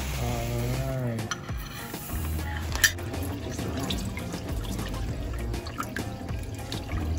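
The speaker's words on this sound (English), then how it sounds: "So you wash it until The water is it's clear." Tap water running into a kitchen sink while blue crabs are washed, a steady splashing flow with drips and clinks of handling, and some voices in the background.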